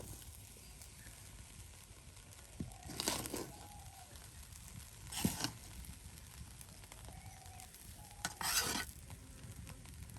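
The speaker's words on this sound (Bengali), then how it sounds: "এই যে খুদ ভাজা কিন্তু হয়ে গেল।" Broken rice (khud) frying in a pan with cumin, green chilli and onion, stirred with a utensil: three separate scraping strokes over a faint, steady sizzle, close and fairly quiet.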